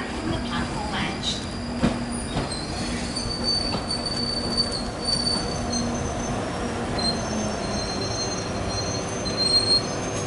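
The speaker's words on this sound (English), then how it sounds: "the train now approaching is to Kennington via Charing Cross" A London Underground Northern Line train pulls into the platform at Finchley Central, with a continuous rumble of wheels on rail, high screeching wheel squeals, and occasional clicks and clatter as it arrives.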